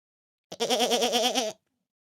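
A single long, quavering goat bleat, loud and close, lasting about a second with a wobbling, nasal tone, then silence.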